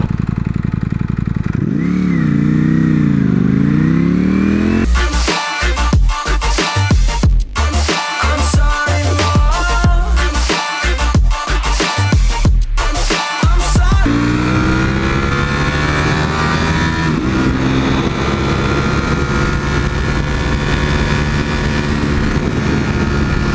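A Mercedes AMG engine revs hard, surging through a stretch of rapid, pulsing acceleration with sharp breaks like gear changes, loud and close, then settling back into a steady drone.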